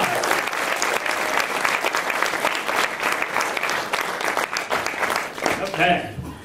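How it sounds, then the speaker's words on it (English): A crowd applauds the Stony Brook Marching Band with dense, sustained clapping that fades out at the end. "Let's give them another big round of applause."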